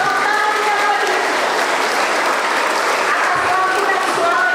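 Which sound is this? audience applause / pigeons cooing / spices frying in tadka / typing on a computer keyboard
audience applause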